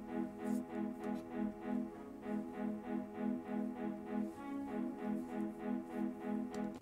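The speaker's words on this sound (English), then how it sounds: "So the first instrument that I added were these strings here" Staccato string chords in a sampled beat made on a PreSonus ATOM pad controller, pulsing in an even, repeating rhythm at a moderate level with no talking over them.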